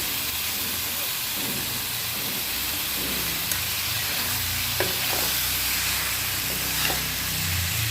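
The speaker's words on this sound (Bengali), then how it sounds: "এবার ভালো করে কষাবো" Banana flower with prawns and potatoes being sautéed in a pan, with a steady sizzle and hiss plus occasional stirring clinks and scrapes.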